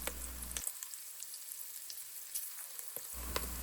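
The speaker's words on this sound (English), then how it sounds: "So in the Dutch oven, we'll start with some Mexican chorizo. We're going to render it down until it gets a nice, deep, dark red." Mexican chorizo rendering in a Dutch oven for keto chili gives a steady, soft sizzle and crackle, with a brief quieter stretch in the middle, no talking.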